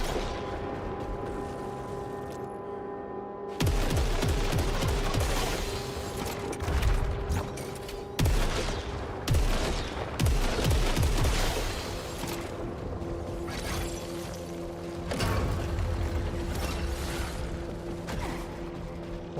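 Bouncing-bullet gunfire from the video game Saros, loud bursts of mechanical, clattering shots repeating in clusters over a steady droning game soundtrack, with no speech.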